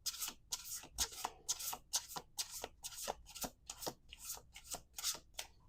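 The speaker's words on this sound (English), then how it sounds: "I want to two more shuffles." A deck of tarot cards is shuffled over and over close up, giving about a dozen crisp riffling bursts with brief pauses between them, and no talk.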